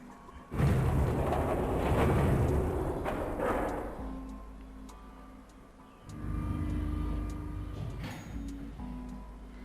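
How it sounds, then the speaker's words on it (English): An elevator motor grinds as the car descends in the video game Nine Hours, Nine Persons, Nine Doors (999): a loud, heavy low rumble that surges, eases for a moment, then swells again, with no voices. "The door slid shut and they heard the grinding of the motor as the elevator car moved down."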